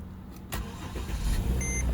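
A Mercedes ML350 with a rough idle and rattle is cold-started, the engine catching after a short crank and settling into a loud, close idle, with a dashboard chime sounding near the end.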